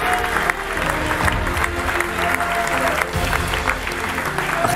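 Sustained applause from a crowd at a Fortnite LAN tournament prize ceremony, dense steady clapping with a few cheers, loud and continuous throughout.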